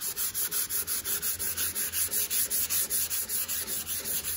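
Guide coat being sanded off a custom car paint job, a loud steady rasping rub in even back-and-forth strokes of about four per second, close up and with no voices.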